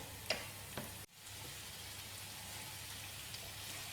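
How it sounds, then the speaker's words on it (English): Onions and green peppers fry in a pan over reduced heat, giving a soft, steady sizzle and crackle with a couple of sharper ticks and one brief clatter near the start. "We're going to fry this on a reduced heat for another 5 minutes or so."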